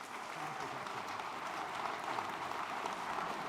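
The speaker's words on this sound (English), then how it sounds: "one more round of applause" Steady applause from an audience, a dense, even clatter of clapping that holds at the same level throughout without breaks.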